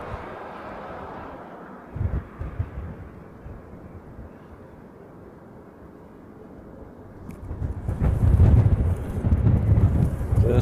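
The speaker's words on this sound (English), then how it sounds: "Just as the wind picks up." Wind gusts across the microphone outdoors at a Hawaii airport planespotting spot. A low, rumbling buffet eases off, then swells loud and rough near the end.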